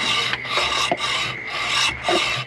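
A hacksaw blade cuts through a metal stud in five steady, rasping back-and-forth strokes, close and loud, each stroke a harsh scraping burst with a brief pause between.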